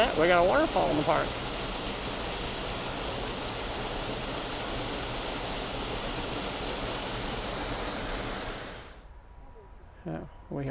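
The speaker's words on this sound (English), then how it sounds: "Look at that, we got a waterfall in the park." A waterfall in a botanical garden park in St. Louis, Missouri, on a rainy day gives a steady, even roar of falling water that cuts off near the end, with a voice speaking briefly at the start and close.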